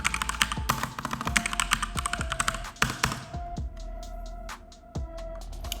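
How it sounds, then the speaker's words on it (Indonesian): Computer keyboard typing as a search phrase is entered into a keyword tool, a quick run of close, crisp key taps with a few heavier thunks, continuing at a steadier pace toward the end. "Kemudian kita ketik aja digital marketing."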